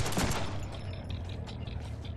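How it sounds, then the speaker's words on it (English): Pistol shots in a Deadpool video game, a sharp loud crack at the start followed by a fainter scattered volley and lingering combat noise. "The old trusty pistols."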